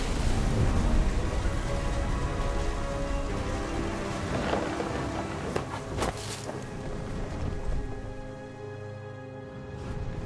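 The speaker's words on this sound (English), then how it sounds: "The thunder sounded much too close and full of angry power." Thunderstorm from the video game What Remains of Edith Finch: steady, loud rain pours across the whole stretch while deep rumbles of thunder roll through, with a sharper crack near the middle, and no one speaks.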